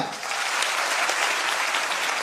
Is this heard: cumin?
no